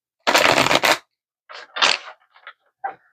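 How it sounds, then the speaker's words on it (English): Tarot cards are shuffled by hand in one long riffling burst, followed by several shorter, sharper shuffles and taps, close and crisp against silence. "One more shuffle."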